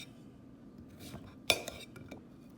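Cut squash slices laid into a skillet, with soft placing sounds and one sharp clink of utensil against pan, close and quiet, followed by a few lighter taps.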